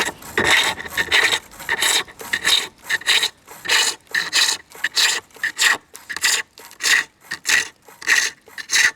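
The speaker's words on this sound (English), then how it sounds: "we're going to take all this bulk off now with the roughing gouge" Roughing gouge cutting wood on a lathe while shaping a spinning top, a loud rhythmic rasping scrape repeating in quick bursts roughly twice a second, close and alone.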